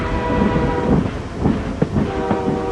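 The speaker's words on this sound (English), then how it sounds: "this is the same train winding its way through a spiral tunnel" A long freight train hauled by GE AC4400CW locomotives winds through a corkscrew spiral tunnel in the mountains, a steady rumble with clanking wagons and occasional sharp knocks standing out, fairly close and continuous.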